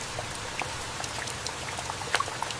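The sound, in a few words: raindrops falling on leaves in heavy rain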